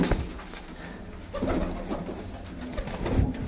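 Pigeons with bangle-like bodies in Ludhiana, Punjab, coo in low, throaty calls that repeat close by, with a few other bird sounds and a rustling background.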